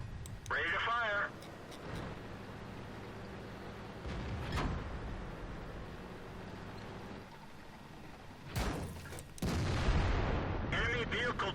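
Tank cannon shots in a tank combat game boom out as a few loud, separate blasts with rumbling tails, mixed with engine drone and short bursts of synthetic voice callouts.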